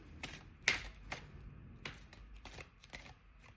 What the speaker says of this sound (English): Okay, one more shuffle, Sharon.